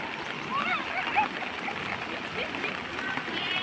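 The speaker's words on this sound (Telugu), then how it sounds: "వాటర్ అంతా ఫుల్గా వస్తుంది." Rainwater about a foot deep rushes steadily over a flooded residential road in G.K. Puram at night, making a continuous close, splashing flow.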